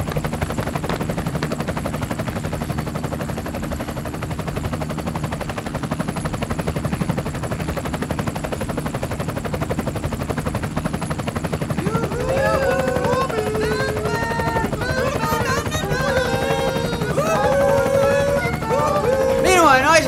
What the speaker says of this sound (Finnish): Meidän helikopteri.